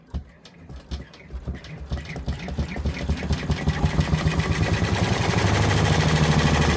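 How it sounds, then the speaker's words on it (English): A multi-needle embroidery machine stitches a black outline, a fast steady mechanical chatter that starts in uneven bursts and builds into a dense, even rattling hum, close and loud. "let's go ahead and unlock and start. And we're just going to let it stitch out the black all around here"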